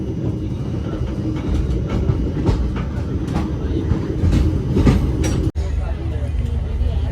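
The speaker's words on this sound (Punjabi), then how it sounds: "ਟ੍ਰੇਨ ਤੇ ਮੁਰਾਦਾਬਾਦ ਤੋਂ ਚੱਲ ਪਈ ਹੁਣ ਅੱਗੇ ਨੂੰ" A moving passenger train from Moradabad toward Ambala rumbles and rattles steadily with rhythmic clatter, a brief sharp dropout near the end, and faint voices under the noise.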